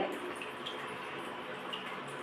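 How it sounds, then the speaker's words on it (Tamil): Water poured into a pot of cooking dal for sambhar rice, a soft, steady trickling and splashing that runs continuously at low volume. "இப்போ தண்ணியை ஊற்றிட்டு"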